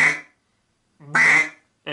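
A person imitates a duck with a duck call, giving loud close quacks in separate bursts with silent gaps between them.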